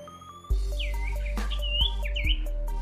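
A small sirtu songbird chirps and whistles in quick, bright phrases close by, over a steady low hum and a few sharp clicks.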